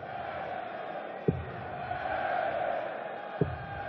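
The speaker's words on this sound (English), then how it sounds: "You stick it in the 5 section, it gets a massive roar." Darts crowd noise at the 2018 German Darts Grand Prix, a steady dense roar of a large arena audience with two sharp thuds standing out briefly.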